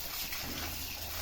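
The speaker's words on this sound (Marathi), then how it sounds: "प्रथम भेंडी आपण धुवून घेणार आहोत।" Okra is rinsed under water, a steady close rush of running, splashing water that lasts only a moment.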